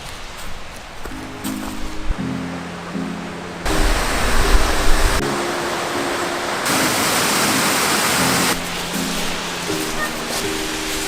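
A small waterfall near Nikko National Park, Japan, gives a broad, steady rushing roar that grows louder and stays dominant through the middle, with soft tonal background music running underneath.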